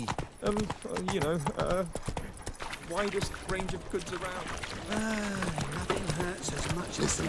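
Geralt's horse Roach clip-clops along at a steady, rhythmic pace in The Witcher 3, the hoofbeats running throughout beneath several people talking.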